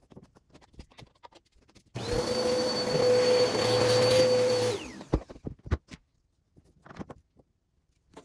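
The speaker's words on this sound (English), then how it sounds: "Let's vacuum." A vacuum cleaner switched on for about three seconds during a window bench build, a loud steady whine with a high tone that cuts off abruptly, framed by light knocks and handling noises before and after.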